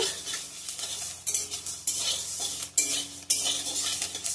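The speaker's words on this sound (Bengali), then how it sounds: "সবগুলো এখন শুকনো খোলায় ভেজে নিব।" Metal spoon scraping and clinking against a dry pan as fenugreek seeds and panch phoron are dry-roasted for a raw mango pickle, with steady stirring strokes and a few sharper knocks, close and alone without speech.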